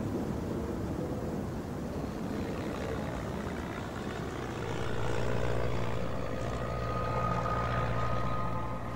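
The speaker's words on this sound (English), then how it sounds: "I hear this plane, he's above me." A propeller airplane drones steadily overhead above a hiker stranded in the wilderness, a continuous low engine hum that swells slightly louder partway through, with no voices.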